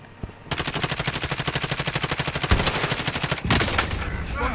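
Rapid automatic gunfire in Call of Duty: Modern Warfare, a loud, steady stream of rhythmic shots that keeps going for about three seconds, then a heavier burst near the end.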